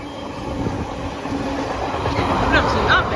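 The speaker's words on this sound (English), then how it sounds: "If you're a fellow train spotter like me here, you'd recognise the engine of a class 66" A Class 66 diesel locomotive passes close by, its engine thrumming loudly and steadily with rumbling wheels and a hauled train of oil tanks, the roar swelling slightly toward the end.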